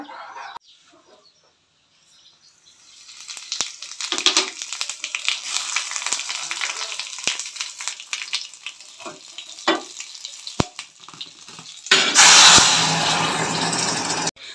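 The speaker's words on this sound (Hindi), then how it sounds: "अब हम लगा देंगे इसमें छोंका" Tempering (chhonka) added to dalma, a loud close sizzle and frying hiss that swells, carries on with stirring clatter, then bursts louder near the end.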